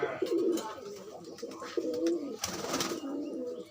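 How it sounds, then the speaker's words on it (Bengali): Red-eyed pigeons, kept as a flying pair, coo in repeated low throaty bursts close by, with soft rustling between calls. "দারুণ জুটি লাল চোখের পায়রা"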